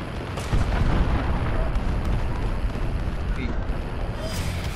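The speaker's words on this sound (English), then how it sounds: "Allied cruise missile launched." Cruise missile strikes in Call of Duty: Modern Warfare rumble as a sustained, heavy barrage of booming explosions and rolling artillery-like thunder, loud and continuous, with faint radio voices underneath.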